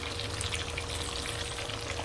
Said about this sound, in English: And over here I got my 2 fish still frying